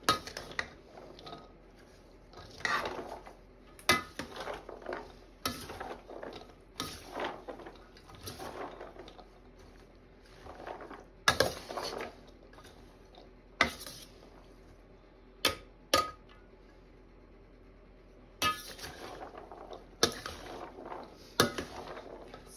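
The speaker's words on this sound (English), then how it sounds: "And we'll stir that all up." Beef and green beans with a splash of sesame oil are stirred in a pot, giving intermittent scraping and clinking strokes against the metal with short pauses between them, close and fairly soft, with no talk.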